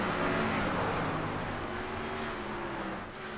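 Sprint race cars lapping the paved track at Lanier Speedway, a loud, continuous engine roar near at hand with steady droning pitch that eases slightly toward the end.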